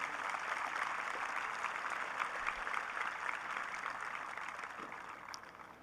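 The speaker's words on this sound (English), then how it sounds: "Please join me in a round of applause" Audience applause at a 2023 high school graduation ceremony, steady sustained clapping from a large crowd heard at a distance, fairly faint and continuous for several seconds.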